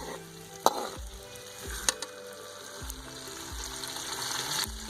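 Onions fry in a pan until brown, giving a soft, continuous sizzle close by, broken by a few sharp clinks and stirring knocks.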